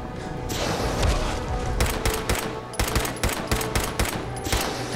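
Rapid bursts of video game gunfire from Fallout 4 fill the scene, automatic fire crackling loudly and continuously with sharp repeated shots and heavy thuds toward the end, no talking.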